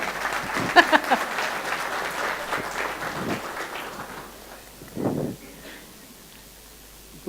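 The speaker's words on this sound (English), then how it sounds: "As she comes, it will be good to applaud her." An audience applauds as a speaker is welcomed onto a stage, a broad wash of clapping that holds steady for several seconds, then thins out with a brief swell near the end.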